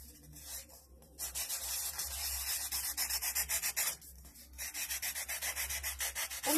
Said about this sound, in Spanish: me voy a enfocar en lijar aquí, donde está esta línea para que no nos quede filosa